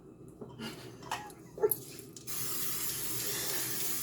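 A few faint clicks and handling noises, then a cooking spray hisses out into a pan in a steady, continuous spray lasting a couple of seconds.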